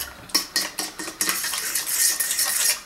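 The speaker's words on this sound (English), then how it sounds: "Just mix it all together." Chicken coating ingredients, including egg, get mixed in a bowl with a utensil, making rhythmic clinking taps and scraping against the bowl, close and fairly loud.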